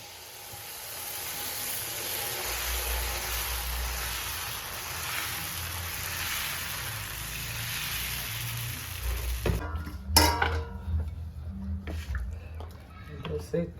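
Dosa batter cooking on a hot pan: a steady close sizzle and hiss fills the first stretch, followed by scraping and clattering utensil sounds, with a person speaking throughout.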